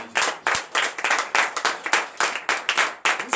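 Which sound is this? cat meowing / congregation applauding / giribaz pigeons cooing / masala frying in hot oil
congregation applauding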